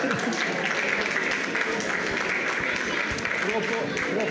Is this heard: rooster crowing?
no